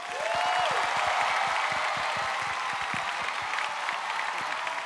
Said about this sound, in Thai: ขอเสียงปรบมือให้กับศิลปินแห่งชาติสาขาศิลปะการแสดงเพลงพื้นบ้านแม่ขวัญจิตศรีประจัน